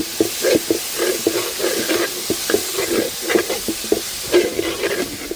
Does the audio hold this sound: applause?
no